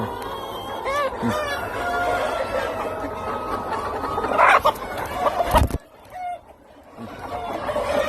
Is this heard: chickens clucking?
yes